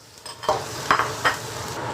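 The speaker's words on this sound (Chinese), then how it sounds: "锅内来一点菜籽油，下入剁好的蒜末" Rapeseed oil sizzles steadily in a hot wok as minced garlic fries, while a few sharp spatula scrapes and clinks cut through, close and fairly loud.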